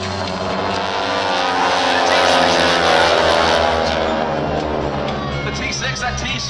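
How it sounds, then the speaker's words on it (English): A T-6 trainer aircraft with the Titan Aerobatic Team flies at the 2017 Ocean City, New Jersey airshow, its engine a loud, continuous roar that swells slightly in the middle as it passes close by. "The T-6, that T is for a trainer aircraft."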